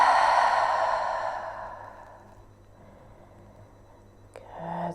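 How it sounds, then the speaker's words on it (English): A long, deep, breathy exhale during a yoga stretch, loud and close at first, then trailing off into quiet room tone before a small shuffle near the end. "Exhale."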